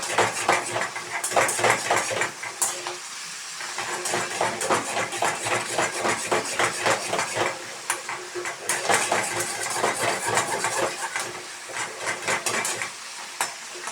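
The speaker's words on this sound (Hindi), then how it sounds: "इसे ऑयल में अच्छे तरीके से हम थोड़ा सा फ्राई करेंगे 5 से 7 मिनट" Mutton sizzling and frying in oil for Shanwari karahi, a steady close hiss and crackle broken by repeated scrapes and clatters of a spoon stirring against the pan.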